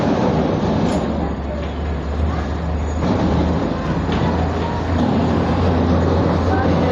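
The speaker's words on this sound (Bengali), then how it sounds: "ট্রেন ছাড়বে। এই যে ছাড়বে।" A passenger train pulls out of Dalkhola station after a one-minute halt, a steady low rumble and rolling hum running throughout at close range, with voices talking over it.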